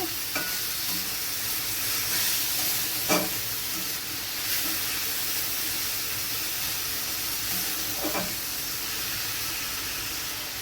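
Shredded cabbage with salt sizzles steadily in a hot pan, a constant frying hiss broken by a few sharp clinks and scrapes of a spatula stirring it.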